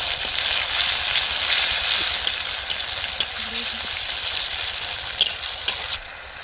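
Cumin and coriander paste sizzles loudly in a frying pan for a vegetarian curry, a steady close hiss of hot oil with a few small pops and clicks throughout.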